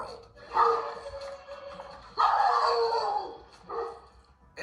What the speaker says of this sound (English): It's a very cute puppy.